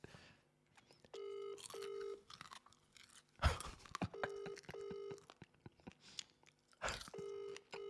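A phone call rings unanswered, its electronic ring tone repeating in short paired bursts at moderate volume, with close chewing and crunching sounds in between.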